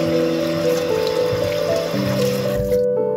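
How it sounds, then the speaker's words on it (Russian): Cold water is poured into a pot over beef ribs for shchi cabbage soup, a close, steady splashing stream that stops abruptly near the end. "Заливаю холодной водой."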